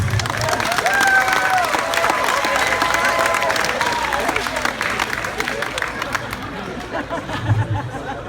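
A school graduation-night hypnotist show fills with sustained audience applause and crowd chatter. Dense clapping runs throughout, fading slightly toward the end, while a voice talks over it.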